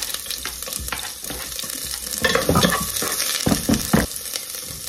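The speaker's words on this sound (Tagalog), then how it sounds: "Sabay ko na yung sibuyas at bawang." Sliced onion and garlic fry together in a pan, a steady sizzle with louder bursts of stirring and spatula scrapes toward the middle and end, no voices.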